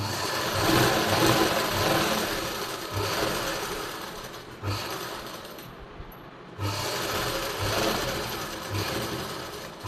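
A sewing machine runs in steady whirring bursts while stitching the lining of a blouse, with a brief stop partway through before the rapid needle chatter resumes, close and moderately loud.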